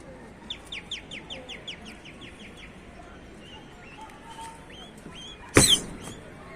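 Domestic pigeons in a rooftop loft setting, with repeated short chirping calls and flapping near the start, scattered faint bird calls afterward, and a sudden loud burst of wing flaps or movement near the end.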